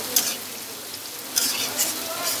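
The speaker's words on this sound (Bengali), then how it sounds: "আমি কড়াইতে পরিমাণ মতো তেল দিয়ে পেঁয়াজ কুচি দিয়ে দিয়েছি।" Chopped onions frying in oil in a kadai, a close soft sizzle with intermittent stirring scrapes and bursts of crackle.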